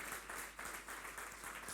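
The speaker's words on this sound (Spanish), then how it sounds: "Denle un aplauso al Espíritu Santo." Church congregation clapping during a Sunday morning service, a soft, steady patter of many hands with a faint rhythmic pulse, fairly distant and low in level.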